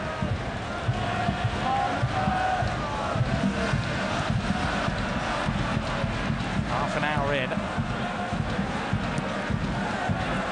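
Crowd of more than 30,000 at the MLS Cup Final between LA Galaxy and Houston Dynamo, a steady distant stadium roar running the whole time under a commentator's voice.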